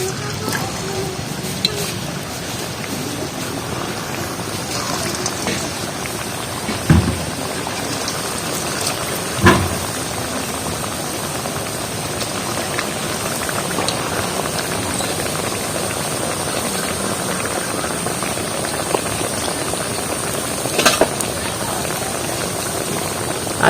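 Wheat flour biscuits frying in hot white oil in a wok on a stove, giving a continuous bubbling sizzle with a few louder pops and clatters scattered through it, and no talk.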